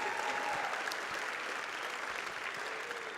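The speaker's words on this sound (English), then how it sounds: "So let's give them another round of applause." A chapel congregation gives a gospel group another round of applause at an MLK Day service, sustained even clapping from a large crowd heard at some distance, steady throughout.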